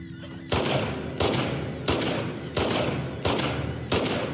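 Video game gunfire comes in regular heavy bursts, five repeated thumping volleys roughly every two-thirds of a second after a brief quiet start, loud and close.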